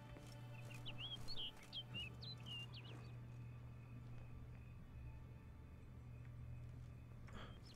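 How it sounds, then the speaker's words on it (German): Bird chirps in The Witcher 3: Blood and Wine, a run of short high tweets over the first few seconds, fairly clear above a steady low in-game hum and ambient background. "Offenbar führt mich der Vogel irgendwo hin."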